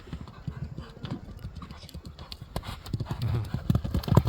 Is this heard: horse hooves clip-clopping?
yes